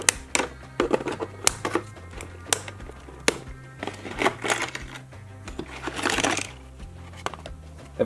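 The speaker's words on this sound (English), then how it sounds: "Grab a pair of scissors and start cutting." Sharp scissor snips cutting through the straps holding Transformers Rise of the Beasts toys in their packaging, a run of crisp close clicks and cuts amid plastic rustling and handling noise.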